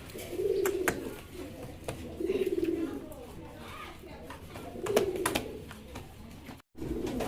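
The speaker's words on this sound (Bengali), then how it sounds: "আরও এক জোড়া কবুতর আছে অ্যান্ডোনিজিয়ান কালারের শৌখিন কবুতর" Fancy Indonesian-colour pigeons cooing nearby, several soft rolling coos in recurring bursts, with faint voices and chirps in the background.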